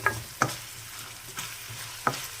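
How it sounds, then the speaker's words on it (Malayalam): Garlic, ginger and green chilli sizzle in hot oil for a fish curry, with a steady low frying hiss broken by four short, sharp stirring clatters spaced apart, fairly close and moderately loud. "അപ്പോൾ വെളുത്തുള്ളി, ഇഞ്ചി, പച്ചമുളകും കൂടെ എണ്ണയ്ക്കകത്ത് താളിക്കുന്നു."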